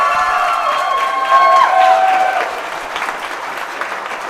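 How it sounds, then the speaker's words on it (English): An audience at a church program gives sustained applause with cheering, a loud, dense wash of clapping and voices from close by that swells briefly and then eases slightly. "please give her a round of applause"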